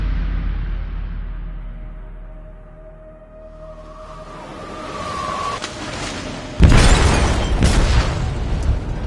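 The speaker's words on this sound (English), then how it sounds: "Detonated an explosive in the hold." An explosive charge detonates in a ship's hold during a Detroit: Become Human firefight: a sudden heavy boom past the midpoint, then sustained loud rumbling and crackling debris over low ambient drone.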